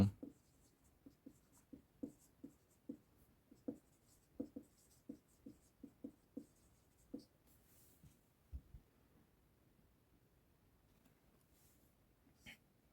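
A pen scratches across paper in a steady series of short, distinct strokes, close and fairly quiet, with a few pauses between words being written.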